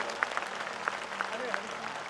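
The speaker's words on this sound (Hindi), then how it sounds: "सभी लोग दोनों हाथ उठा करके ताली बजाकर धन्यवाद दें।" An audience at a Bageshwar Dham religious gathering claps in thanks to Maharaj Shri, scattered claps landing at an uneven rhythm over a soft background and a voice.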